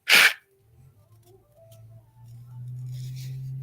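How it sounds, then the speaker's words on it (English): A single loud, sharp sneeze bursts out at the very start, close to the microphone, then fades into a low steady hum and faint background noise. "I feel a sneeze coming."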